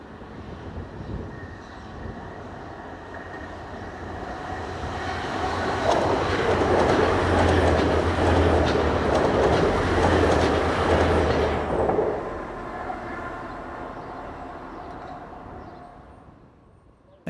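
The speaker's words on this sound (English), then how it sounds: "Looking west towards Barnetby, we see Class 185s, numbers 125 and 124, on train 1B70" Class 185 diesel multiple units, numbers 125 and 124, pass near Barnetby on a Manchester to Cleethorpes service. The rumble swells from a distance, then comes a loud, steady roar with rail clatter, and it fades away again.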